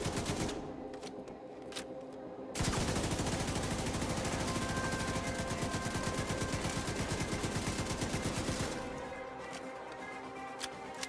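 Light machine gun fire in The Division 2, a long sustained burst of rapid, evenly spaced shots, loud and close, preceded and followed by a few scattered single shots.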